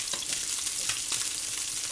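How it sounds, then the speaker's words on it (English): Short grain rice pudding is stirred in a pan, giving a steady, close wash of bubbling and scraping that runs without a break and without any voice. "I'm just going to give it a bit of a stir now."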